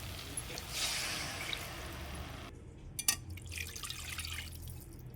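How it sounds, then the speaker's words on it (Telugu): Water is poured into a pot of simmering okra curry, a soft, faint trickle and splash with a brief louder splash near the middle, heard alone in a quiet kitchen. "ఇప్పుడు కర్రీకి తగినన్ని నీళ్ళని యాడ్ చేయాలి."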